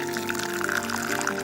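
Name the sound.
pouring cooked paneer into muslin cloth in a bowl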